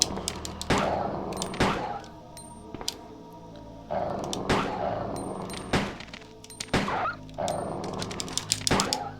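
Gunfire in the survival-horror game Resident Evil: a series of sharp, loud shots spaced roughly a second apart, each cracking out and decaying over a low ambient game backdrop, with no talking.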